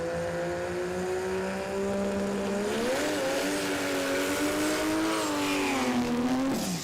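A drag racing car on a hot lap at Warwick Dragway in Australia drones steadily at a distance, engine pitch holding then rising and falling as it circles, a continuous moderate roar with no speech.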